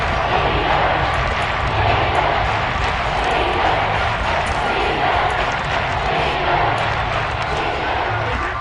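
A packed football stadium crowd roars steadily and loudly ahead of a big third down, a dense, continuous wall of cheering noise with no voices standing out.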